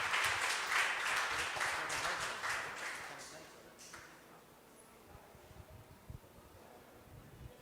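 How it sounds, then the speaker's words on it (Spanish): Applause from a church congregation welcoming pastor Elías at an evening service, steady and fairly distant for the first few seconds, then fading out into a quiet room. "¿por qué no le damos un aplauso de bienvenida al pastor Elías?"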